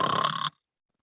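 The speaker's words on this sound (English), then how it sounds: "Giant had fallen sound asleep and was snoring loudly" A giant snoring loudly in a told fairy tale, after a golden-egg-laying hen: one long, rough, nasal snore close up, ending abruptly into silence.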